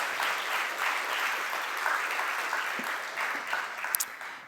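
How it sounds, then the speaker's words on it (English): Audience applause in a plenary hall at a creativity forum, a dense, even roll of clapping from a large crowd that holds steady before thinning slightly at the end. "Then another applause for you, and greetings to Aarhus."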